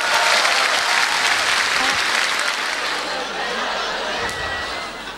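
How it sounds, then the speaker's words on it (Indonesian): Steady, dense applause from a live comedy audience greeting stand-up comedian Dodit, loud and continuous for several seconds with faint chuckles in the crowd. "Langsung kita berikan tepuk tangan untuk"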